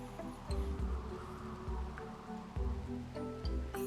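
Rain falling in the RimWorld video game: a steady soft patter of rain on surfaces, with faint intermittent low thumps underneath.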